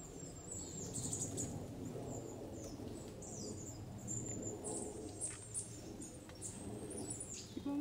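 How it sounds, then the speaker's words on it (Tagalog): Forest birds calling in Oze National Park, faint high chirps scattered over a steady rushing background, distant and quiet with no voices. "Mga ibon."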